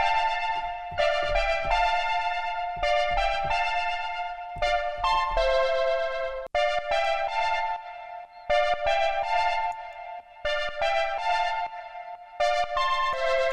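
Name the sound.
synth melody played on a Diva synthesizer preset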